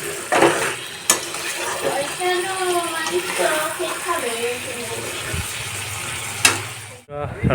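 Meat fries in a pan as a utensil scrapes and clatters while stirring over a steady sizzle, close up, with a voice speaking partway through.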